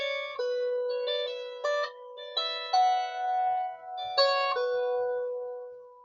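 A lyre plays measure 3 of a piece as a clear, close, solo line of plucked notes that ring out and overlap, ending on a longer sustained tone.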